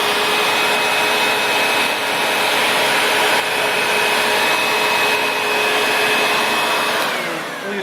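Sebo X4 Pet Edition upright vacuum cleaner running with its brush agitating, a loud, steady, close motor whine and airflow hiss that holds constant throughout.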